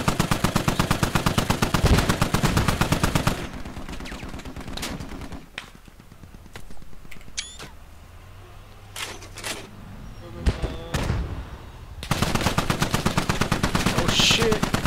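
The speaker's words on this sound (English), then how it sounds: "Oh, you're getting shot." Rapid machine gun fire in a tactical shooter match on an Al Basrah map, loud sustained bursts at the start and end with quieter scattered shots and distant impacts in between.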